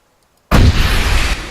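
A loud energy rocket blast in a first-person shooter video game bursts in suddenly after a short silence, a heavy booming explosion that rumbles on with a sustained roar.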